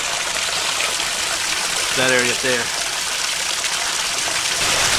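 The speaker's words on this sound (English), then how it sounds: "Because the water flows out of like this little spring house." Water flows steadily out of a small spring house as a continuous broadband rushing gush, with a person briefly speaking over it.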